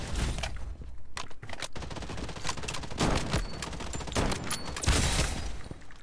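Gunfire in the battle royale video game Blood Strike, loud bursts of rapid automatic shots in several volleys with brief gaps between, close and dominant.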